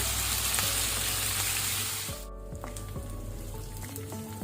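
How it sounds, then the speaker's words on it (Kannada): Onions frying in oil for Karnataka-style tomato rice, a loud dense sizzle that drops off partway through into a softer crackle with scattered pops, no voices. "ಈರುಳ್ಳಿಯನ್ನು ಒಳ್ಳೆ ರೀತಿ ಫ್ರೈ ಮಾಡಬೇಕು"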